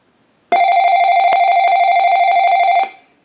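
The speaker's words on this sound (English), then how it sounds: "Our handset is ringing along with the bass." An AT&T 5500 telephone handset rings with one continuous electronic warble lasting a couple of seconds, loud and close, with a single click partway through.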